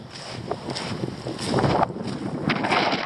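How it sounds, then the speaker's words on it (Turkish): Steady, loud wind buffets the microphone at a forest campsite where a river meets the sea, a continuous roaring rush with gusts that swell and ease, no voices present. "Rüzgar çok."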